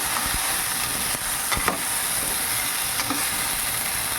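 Tomatoes and coriander frying in a pan give a steady, close sizzle with a constant bright hiss, broken now and then by short spatters and pops.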